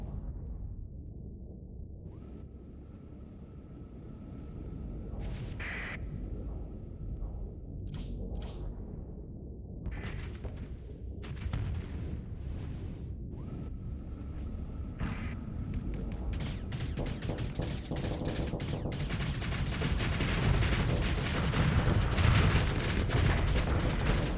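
Ship explosions and weapon fire in the space combat game Starsector, a dense run of sharp booms and whooshes building into a loud, sustained roar of blasts toward the end.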